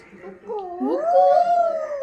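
A child imitates a jackal's howl with a long, rising, wavering wail that holds at full strength, close and clear.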